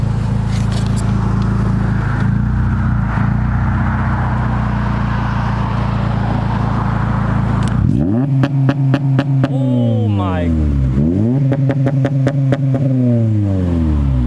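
Acura RSX Type S with a K-series engine, Kpro V4 tune and launch control, idling loudly before bursts of hard revving that rise and fall repeatedly, bouncing off the limiter, loud and close.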